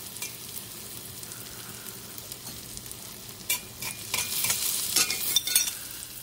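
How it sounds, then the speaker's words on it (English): Garlic and ginger frying in oil in a pan: a steady close sizzle with the scrape and clatter of stirring growing busier toward the end. "we're gonna fry the garlic and ginger in the oil as best we can"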